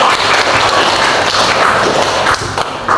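Students clapping together in a classroom, a dense, steady burst of many hands heard close and loud, with no talk over it.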